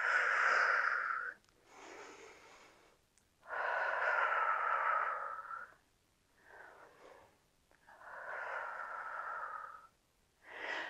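Slow breathing during a third-trimester prenatal Pilates workout with light weights: three long, loud exhales through the mouth, each lasting a second or two, with quieter inhales in the pauses between them and no talking.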